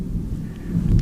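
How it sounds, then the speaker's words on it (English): Thunder rumbles low and heavy through a storm, growing louder toward the end, a deep rolling sound heard alone with no talk over it. "That's actually thunder."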